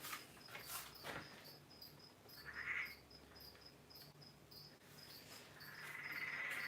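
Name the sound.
Peron's tree frogs calling outside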